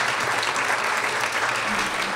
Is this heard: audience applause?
yes